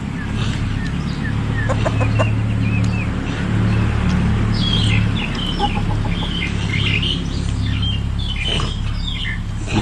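Chickens cluck and chirp steadily at a rural Thai outdoor meal, with several short bright calls over a constant low hum of background noise, and no talk.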